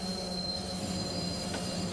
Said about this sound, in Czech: Vlak zastavuje.